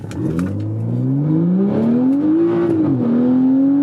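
A BMW F-series car launches from 0 to 60, its engine note rising loudly and smoothly through the revs with a brief tire chirp at the start, close and continuous.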